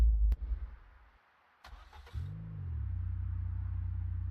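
Car engine in a video game starting up with a few sharp knocks, then settling into a steady mid-pitched idle that rises briefly before holding constant, close and fairly quiet, with no talking.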